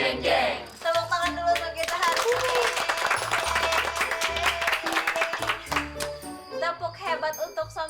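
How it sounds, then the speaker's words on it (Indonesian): A group clapping hands at an evening gathering in a village, the claps heard beneath loud music with bright bell-like tones and booming bass. "Tepuk tangan dulu"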